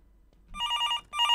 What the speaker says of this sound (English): That's the phone again.